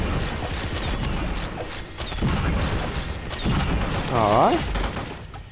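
A firework weapon fires repeatedly in the mobile shooter Pixel Gun 3D, producing dense crackling bursts and booms that roll on through the whole stretch, with a player speaking briefly over the noise.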